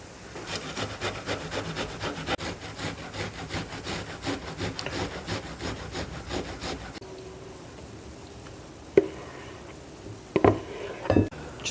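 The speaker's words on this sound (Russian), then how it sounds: "На терке 2 головки лука я возьму." Two onions rubbed against a hand grater, a steady run of rhythmic scraping strokes for several seconds, close and moderately loud, then quieter kitchen clatter with a few sharp knocks near the end.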